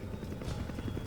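A helicopter in the video game Resident Evil 5 gives a brief, steady rotor thrum with a low pulsing chop, fairly close and continuous over a second.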